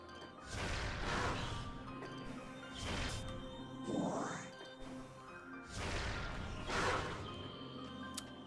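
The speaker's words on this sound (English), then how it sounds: "I somehow hit two enemies with one missile there that wasn't even locked on" Missile impacts in Metroid Prime strike enemies, giving repeated crashing, whooshing smacks with a rising swoosh in the middle. The hits are loud and close, spaced a few seconds apart over game ambience.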